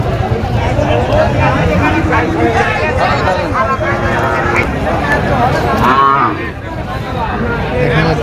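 A cow moos amid a busy cattle market where black cows are being priced and sold, its low calls rising over steady crowd babble and nearby talking voices.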